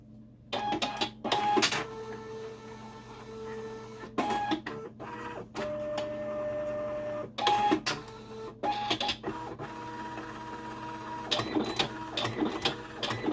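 A Partex Promark T 2000 cable marker printer prints markers in repeated bursts of mechanical whirring and clicking, close and fairly loud, with short pauses between feeds and no talking.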